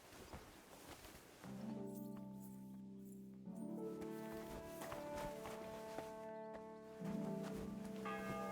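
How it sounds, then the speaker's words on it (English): A church bell rings in the medieval video game Kingdom Come: Deliverance II, with several rich sustained strikes whose tones linger and overlap, faint and somewhat distant amid soft footsteps and ambient rustle. "The bell's ringing for Hans the 5th time."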